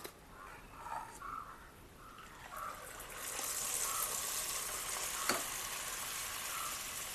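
Food sizzles and crackles in hot oil in a pan, starting quieter and growing into a loud, steady frying hiss, with a brief sharp tap partway through and no talking.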